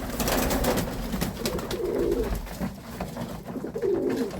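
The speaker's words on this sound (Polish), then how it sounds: "Gołębie są, żyją, nie zamarzły." Dark murzyn pigeons cooing in a heated winter loft during frost, soft repeated throaty coos rising in several phrases over a quiet hiss, fairly close with no talk.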